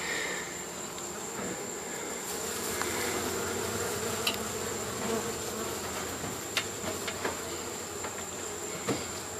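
A dense swarm of honeybees hums steadily during a hive removal in Bartow, Florida, a continuous outdoor buzz with occasional nearer bees flying past and faint knocks.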